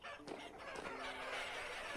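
Chickens clucking in the Vintage Story video game, a short, faint burst of soft clucks and a brief crow-like call over a hissy background.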